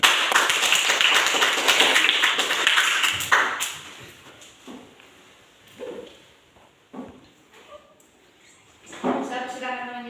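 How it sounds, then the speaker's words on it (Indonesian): Applause in a classroom discussion session: a burst of many hands clapping fills the first few seconds, then fades into scattered taps, knocks and murmured voices. "Tepuk tangan dulu."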